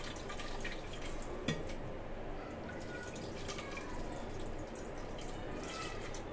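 Tamarind water is poured into a pot of rasam as a soft, continuous watery trickle, with one small splash early on and no voices.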